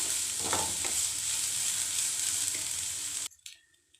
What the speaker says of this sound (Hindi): बस हमें इसको 1 मिनट तक बस इसी तरह से थोड़ा सा इसके अंदर फ्राई कर लेना है।